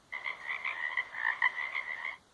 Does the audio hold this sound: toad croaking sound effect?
yes